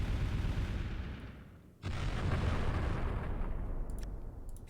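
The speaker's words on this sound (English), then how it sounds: "Let's go ahead and focus some EM cannons over here. Then an EM barrage." Heavy electromagnetic cannon and barrage fire in the Final Theory battleship strategy game: a dense, rumbling roar that fades, then a sharp loud burst at about two seconds rolls on as sustained booming to the end.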